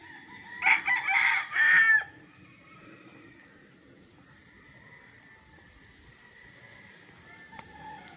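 A rooster crows loudly and nearby on a one-hectare farm lot, one long call at the start, then a quiet outdoor background with faint distant bird and farm sounds.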